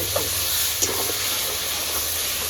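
Onion, tomato, salt, turmeric and ground spices for a vetki fish dish sizzle steadily in hot oil, a continuous loud hiss with faint stirring clatter throughout, no voices.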